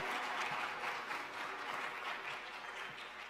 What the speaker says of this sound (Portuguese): batam palmas